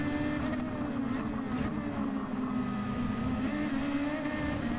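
Race cars in the Gran Turismo 7 racing game drone together in a dense pack, their engines holding a steady buzzing whine that shifts slightly in pitch as the field moves off, loud and constant throughout.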